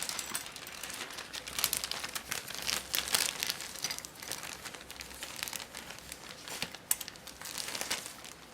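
Plastic Ziploc bags holding the clear parts of an Eduard 1/48 Spitfire Mk.XVI model kit crinkle and rustle up close as they are handled and opened, with irregular bursts and sharper crackles throughout and no speech.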